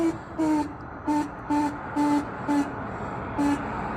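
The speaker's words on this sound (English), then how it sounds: "This is currently what a broke horn sounds like." A faulty horn on an Audi TT 8N sounds in seven short, weak bleats at irregular intervals, each a thin buzzy tone over a steady background hum, with no talking.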